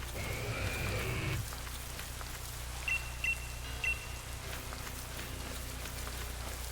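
Stormy weather in Pokémon Sword/Shield: a steady bed of in-game rain and wind noise with a brief louder burst at the start and a few soft chimes partway through, no voices.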